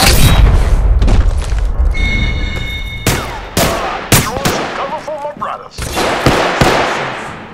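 Gunfire in the video game Apex Legends comes in loud, close bursts of rapid shots and heavy booms. Sharp single cracks and some mechanical clatter are mixed in, with voices talking at times.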